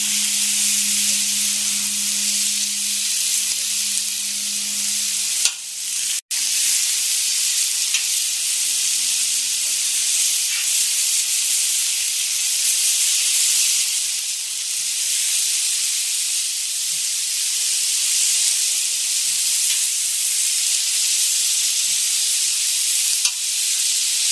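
Filipino pork BBQ sizzles loudly on a new Blackstone griddle, a dense continuous hiss close by, broken only by a brief scrape near the start.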